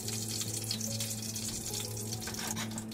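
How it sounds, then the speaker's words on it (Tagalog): Lapu-lapu grouper fish fries in hot oil with a steady, close, crackling sizzle that continues without pause. "So yan, almost done na ang ating piniprikang lapu-lapu."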